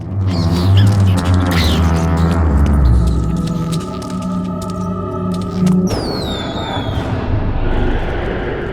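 Fireworks in the video game Shadows of the Damned: a droning low rumble and hum, then thin whistling streaks sliding downward near the end, fairly loud and without speech.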